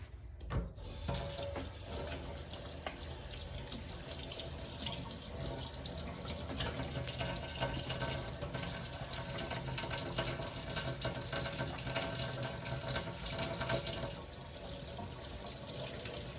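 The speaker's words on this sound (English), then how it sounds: "Gonna wash these hands." A bathroom tap runs steadily into a sink while hands are washed under the stream, a constant close rush of water with faint splashing changes and no talking.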